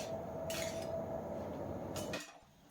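A spoon stirring papaya, tomato and salt in a pan, soft metallic scrapes and a couple of clinks against the pan, close but quiet, ending abruptly.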